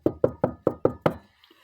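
Six sharp, evenly spaced knocks land on a door in quick succession, close and clear, followed by near silence.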